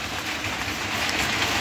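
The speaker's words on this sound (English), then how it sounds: "I've got one train running on the south layout" A model train runs on the south switch-yard section of a home layout, giving a steady, continuous rolling rumble with no pauses, close and fairly loud.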